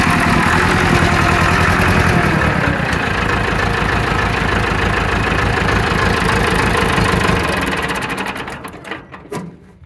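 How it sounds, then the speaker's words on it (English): A Massey Ferguson 275 diesel farm tractor engine runs rough with a knocking, uneven clatter, loud and close for most of the stretch before winding down and sputtering toward the end; no voices. "That's the sound we're getting."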